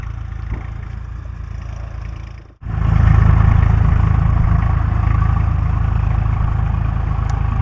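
A tractor ploughs a field of drumstick trees, its engine a loud, steady low drone that cuts out briefly and then rumbles on continuously.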